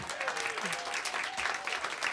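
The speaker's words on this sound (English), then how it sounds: "A round of applause for that." Brief, dense audience applause in a small lounge studio during an interview with a musician, steady clapping lasting the whole moment with faint voices mixed in.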